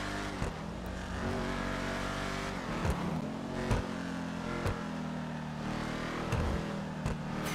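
A Vapid Dominator ASP muscle car driven in Grand Theft Auto V, its engine droning steadily with repeated revs and brief spikes of impact or gear noise, continuous and fairly close, with no talk.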